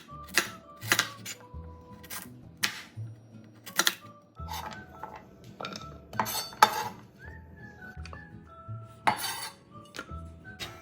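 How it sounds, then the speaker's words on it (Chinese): Knife slicing 500 g of yellow sweet potatoes into thin pieces on a board: a steady run of sharp, clear chops and clinks, close and fairly loud, with no talking. "首先，500克黄色番薯切成薄片，不要切得太厚"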